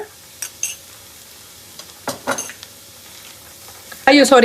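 Store-bought ginger garlic paste stirred in a pan, with a few scattered scraping stirs over a quiet background before a loud, sudden sizzle bursts up as the paste hits the hot oil near the end.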